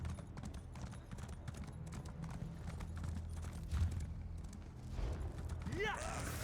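Hooves of an elk-like Indrik mount clip-clop in a steady, rapid rhythm in Elder Scrolls Online, under low game music with a rising magical whoosh near the end.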